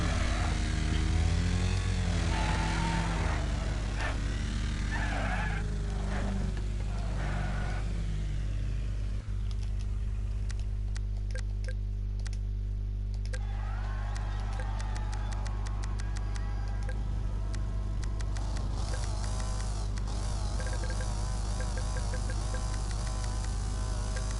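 BriSCA V8 Hotstox oval race cars pull away from the grid at the start of an elimination heat, a continuous loud engine roar with rising revs that swells and holds, steady throughout.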